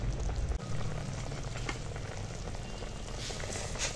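Mango pieces boil in a pot, a low bubbling simmer with soft popping and watery patter, fairly quiet and continuous with a brief dip near the start.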